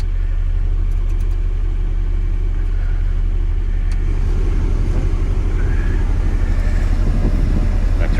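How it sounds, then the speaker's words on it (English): Car engine idling right after starting, a used vehicle being inspected at a Copart salvage yard in Mobile, Alabama; steady low rumble with a slight rise in roughness partway through, heard up close and alone. "Engine sounds good, guys."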